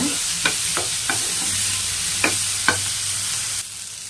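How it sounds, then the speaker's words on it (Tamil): Tomatoes sautéing in a pan, a steady broadband sizzle with a handful of sharp spatula scrapes and taps spaced irregularly, close and fairly loud, no voices. "சேர்த்துட்டு இதையுமே நல்லா வதக்கிக்கோங்க."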